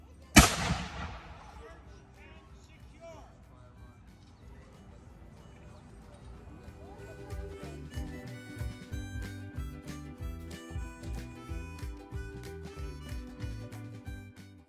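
Black powder muskets, including a new model short land pattern musket, fire a volley at a heritage village: one loud sharp report at the start, then a long rumbling decay, with lighter clatter and music-like tones after.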